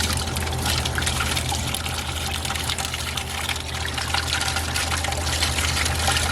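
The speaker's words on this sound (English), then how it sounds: "we can drain it out into this here bucket" Water drains steadily out of a locomotive crankcase into a bucket, a continuous faint trickling and splashing over a low background hum.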